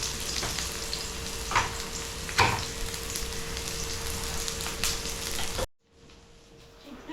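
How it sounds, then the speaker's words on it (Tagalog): Onion and corned beef sauté in a hot pan with a steady loud sizzle, punctuated by a few sharper stirring clatters, before the sound drops away abruptly near the end. "lagay na natin yung sibuyas. Sunod ay corned beef."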